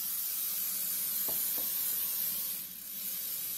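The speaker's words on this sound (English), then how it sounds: "we got to get her pan out, and we got to spray it" Olive oil is sprayed from a can onto a cake pan, giving a steady close hiss with a couple of faint knocks partway through and a short dip near the end.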